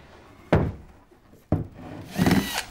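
Two sharp knocks against wood, then a short whirring burst of a drill working close by, drilling and screwing an MDF shelf into a telephone table.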